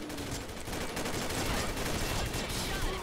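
Rapid bursts of G36 assault rifle fire in the Combat Arms shooter game, a dense continuous rattle of shots running throughout at steady loudness, with faint voice traces underneath.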